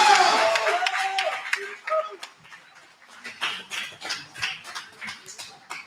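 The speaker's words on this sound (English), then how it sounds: "let's give everyone a big round of applause for Shade Protocol and Ram" An audience at a Muay Thai fight night in Saigon breaks into scattered, uneven clapping and whoops after a voice rallies them, the applause fading to sporadic claps within seconds.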